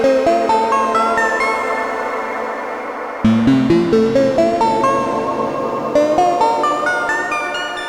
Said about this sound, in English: Here's the horror reverb.